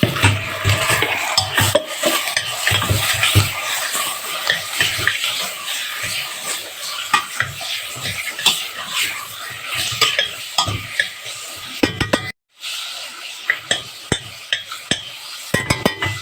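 Chicken pieces frying with garlic in a pan give a continuous close sizzle with frequent utensil scrapes and clinks, one brief dropout midway.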